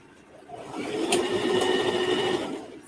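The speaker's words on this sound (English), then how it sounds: "We gonna keep sewing." A sewing machine runs one short burst of stitching along the seam of a pair of kid's shorts, a close, steady whirring hum that rises, holds and then fades.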